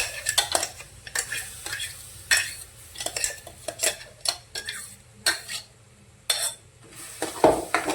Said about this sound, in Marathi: याला चांगलं भाजून टाकायचं